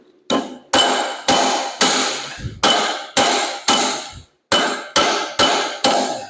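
A hammer strikes a large socket to drive a gear onto the crankshaft of a 1920 Nash engine, about a dozen loud, ringing metallic blows in a steady rhythm with one brief pause, close and alone.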